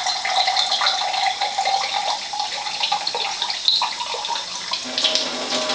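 Water from Tyent and Enagic ionizer machines pours into containers. The splash is steady, bright and hissing, with small gurgles and drips running throughout.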